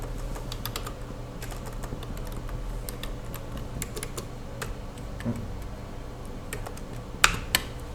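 Quick, irregular clicking of computer keyboard keys as text is typed into a CAD drawing, close and steady with brief pauses, ending in a couple of louder key strikes; no talking.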